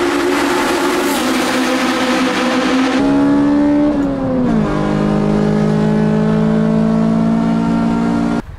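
Honda Civic EK4 with a VTEC engine and Spoon exhaust: loud, sustained revving with a rasping exhaust note that holds steady, shifts pitch in steps and dips before settling, heard close with no talk.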